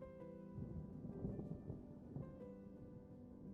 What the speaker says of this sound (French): un grondement de tonnerre retentissait au loin